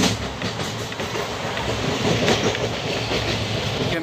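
A train rolls along the railway near Bhatapara railway station, a loud continuous rumble with clickety-clack wheel rhythm running throughout.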